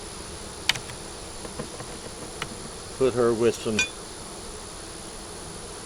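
Honey bees hum and buzz around an open hive during an inspection, a faint steady drone beneath a few brief words and light tapping clicks of hive tools.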